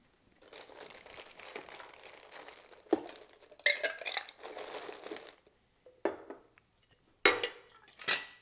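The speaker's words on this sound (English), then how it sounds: "Now we're gonna add our ice." Ice going into a shaker or mixing tin while a Floridita cocktail is made, heard as a run of close clinks, rattles and crunchy knocks in several bursts, with no talking.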